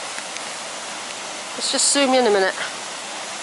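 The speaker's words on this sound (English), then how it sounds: "And there's the water going down," Fast-flowing stream rushing downhill on a countryside walk, a steady broadband wash of water running throughout, with someone speaking briefly over it midway.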